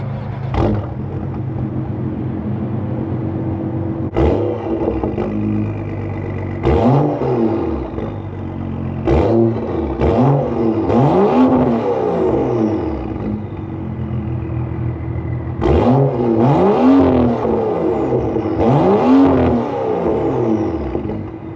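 Modified BMW engine starts up, then fires off a series of quick revs, each sharp rise and fall in pitch repeating in bursts over a loud idle, close to the exhaust.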